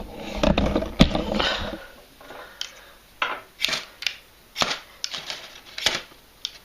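A fire striker scraped with a Swiss Army knife to light a fire, producing a run of sharp scratching strikes at irregular intervals, close and crisp, some in quick bursts and others spaced apart.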